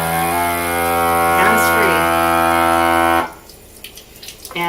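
A vacuum sealer with an external port pumps air out of a canning jar. Its steady, loud, buzzing motor drone holds for about three seconds, then cuts off, leaving faint clicks and rustles.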